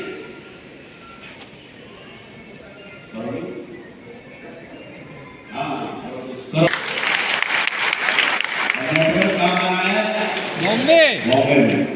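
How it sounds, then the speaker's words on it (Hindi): Audience applause rising at a business leadership gathering in Bombay, swelling into loud sustained clapping in the second half after a quieter stretch under a speaking voice. "बॉम्बे में तालियां बनती है।"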